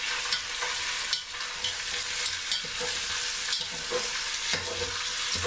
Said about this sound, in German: Und braten dann erstmal schön an, richtig durchbraten.